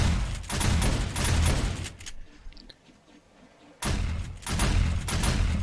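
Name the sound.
gunfire from turrets in the video game 7 Days to Die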